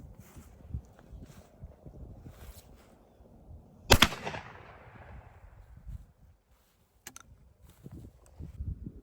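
A Rock Island Armory single-shot 12 gauge shotgun fires one slug at an outdoor target, a single sharp loud blast with a short rolling echo that fades quickly amid faint wind and background noise.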